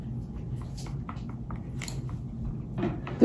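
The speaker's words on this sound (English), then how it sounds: "This dog chewing up my popsicle sticks." A dog chews and bites on small wooden popsicle sticks during resin epoxy crafting, giving scattered, soft crunching clicks at close range over a steady low background.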